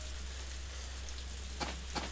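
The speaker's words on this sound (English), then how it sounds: "Oh, it's raining." Steady rain falls in Harvest Moon: A Wonderful Life, a constant soft hiss of rain on the ground in winter with a couple of faint taps near the end.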